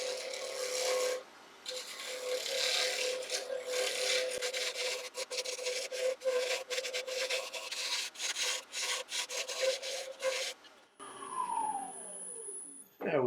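Stabilized chestnut burl spins on a lathe as a tool scrapes it in a steady, close rasping cut with rhythmic chatter for about ten seconds, then the whine of the lathe winding down alone.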